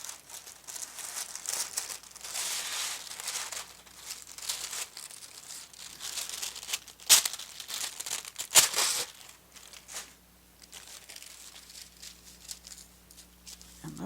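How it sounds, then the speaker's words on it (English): A fresh sheet of parchment paper is pulled out and handled, giving close crinkling and rustling with a few sharp crackles partway through, then quieter rustles, alone without talk. "let's get a fresh piece of parchment paper"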